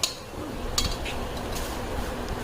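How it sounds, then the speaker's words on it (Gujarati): A spoon stirring homemade mamra chavanu, a puffed-rice snack mix with crushed khakhra and papad, in a metal vessel: a soft, steady rustle broken by a few light clinks of spoon on pot. "સારી રીતે હલાવી લેવાનું છે."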